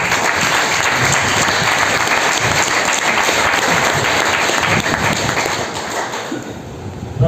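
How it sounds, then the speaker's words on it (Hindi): An audience at a technical training event in Faridabad gives loud, dense applause that runs steadily, then thins and fades toward the end. "ताली बजा"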